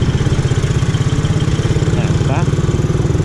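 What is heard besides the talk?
Suzuki Raider R150 Fi motorcycle engine running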